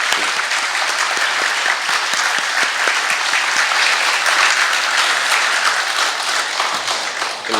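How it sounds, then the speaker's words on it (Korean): A church congregation bursts into sustained, dense applause during a baptism service, welcoming families with steady clapping that fills the room from start to finish. "큰 박수로 환영해 주시면 감사하겠습니다."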